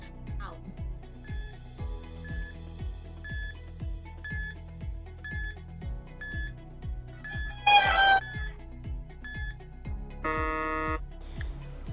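A quiz countdown timer plays a steady rhythmic ticking beat with repeating high beeps for about twelve seconds, ending in a brighter chime-like burst near the close, moderately loud with no talking.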